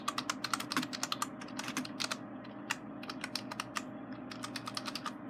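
Rapid, uneven clicking of keys on a computer keyboard, close and continuous, with no voices.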